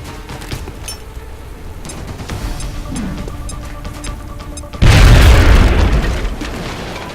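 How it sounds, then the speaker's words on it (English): A grenade blast in the XCOM: Enemy Within video game bursts in as one loud, deep boom and rumbles away over a couple of seconds, following quieter game background. "Now toss your grenade at the enemy in front of you."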